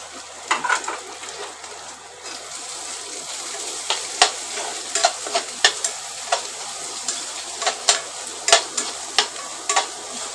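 Frying egg and chili paste in oil as tomato goes in, a steady sizzle broken by a series of sharp spoon taps and scrapes against the pan, close and without speech.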